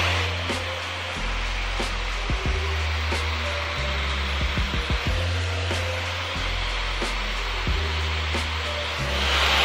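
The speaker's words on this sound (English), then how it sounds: "You wanna make sure you're following a nice consistent motion and not moving the dryer around too much" Dyson Supersonic hair dryer blowing steadily while hair is styled, a loud continuous airy whoosh with low hum shifts as it moves and occasional brief clicks or handling knocks, no talking.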